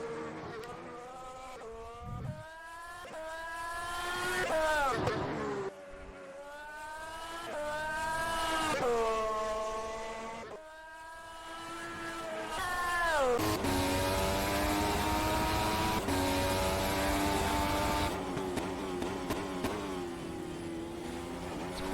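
Formula 1 cars racing in an F1 video game league at Catalunya, engines rising and falling through repeated gear changes and a slow hairpin, loud and continuous, then a sustained high revving pass with faint tire noise.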